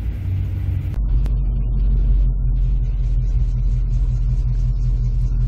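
A stock G-body car rolls up at an autocross event, its engine giving a deep, steady low rumble close by, with a brief click near the start and no talk.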